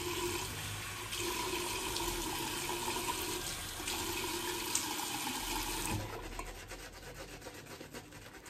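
Water pours steadily from a tap during preparation for a wet shave, a close, even rush that changes to a thinner, rougher splashing near the end.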